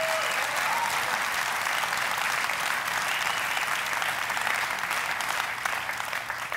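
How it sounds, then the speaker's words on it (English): A church congregation at a Sunday service applauds the police, giving a long, continuous round of dense clapping at an even level from start to finish. "give a screaming round of applause to our policemen and law and order"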